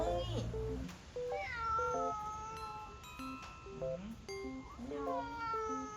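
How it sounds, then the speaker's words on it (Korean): Several short, repeated meows from a cat at a cat-themed guesthouse, close and clear, with gaps between them and a light ding at one point. "야옹이."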